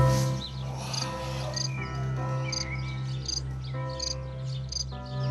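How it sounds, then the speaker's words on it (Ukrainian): Indoors, a cricket chirps in repeated short, bright pulses, fairly close, over a steady low hum. "Тут уже оселився цвіркун."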